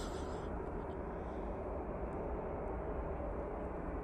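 A TUI Boeing 787 Dreamliner taking off at Manchester Airport, a loud, steady broadband engine roar that holds constant throughout without pause.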